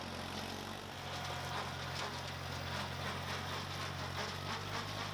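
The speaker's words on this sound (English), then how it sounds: "And the tallest of grasses are just no problem for the bush hog." A tractor-driven bush hog cutting tall grass on rough ground, a steady, dense engine drone with broadband thrashing noise, continuous and fairly loud without pauses or talk.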